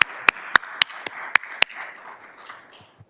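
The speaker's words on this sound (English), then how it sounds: "I am going to clap for you and highlight you" Applause at a school board meeting: a handful of sharp, separate claps in a steady rhythm, close and distinct, fading into a murmur from the room with a couple of soft taps at the end.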